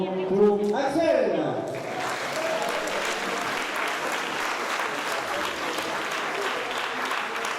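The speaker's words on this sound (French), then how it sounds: "un tonnerre d'applaudissements pour Axel!" A concert audience at an evening charity event bursts into loud, sustained applause for a performer, a dense steady wash of clapping that follows a brief musical flourish and holds for several seconds.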